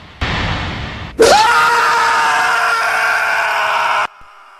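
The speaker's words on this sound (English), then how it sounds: "the scream is pretty good" A loud, sustained film scream rises sharply and holds for about three seconds, cutting off abruptly, preceded by a burst of noisy explosion roaring.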